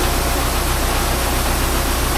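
A farm tractor engine runs steadily during wheat sowing, a close, constant low rumble with broadband noise and no talk.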